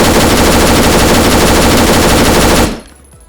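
An MK200 machine gun fires a long, loud, unbroken automatic burst in the video game Arma 3, rapid and dense for over two seconds before cutting off into a short fading echo.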